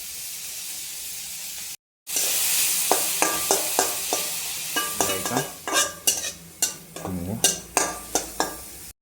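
Paneer bhurji stirred and sautéed in a pan with salt, giving a steady sizzle broken by a series of sharp spatula scrapes and clinks against the pan, close and fairly loud.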